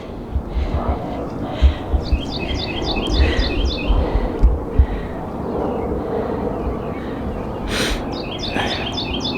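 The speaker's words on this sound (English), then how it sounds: "Birds." Birds chirp in short bursts in a spring garden, the calls fairly clear over a steady outdoor background with some low rumbling and handling noise.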